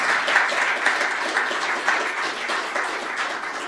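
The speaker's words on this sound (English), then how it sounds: "So please give them a round of applause" An audience at the Allen Ginsberg Poetry Awards 2017 applauds, a loud, thick wash of many hands clapping at once that holds steady for the whole stretch with no voices over it.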